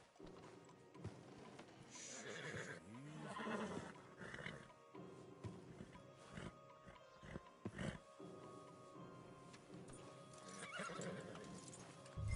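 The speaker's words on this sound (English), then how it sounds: "Marston, you're gonna tether him up to Javier's horse." Horses in the Red Dead Redemption 2 video game neigh and whinny over clip-clopping hooves, with loud, close whinnies and scattered hoofbeats amid rustling movement in a busy game scene.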